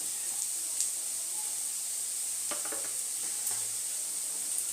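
Soybean chunks and vegetables fry in a pan for veg chowmein, giving a steady, close sizzle with a few brief stirring clatters.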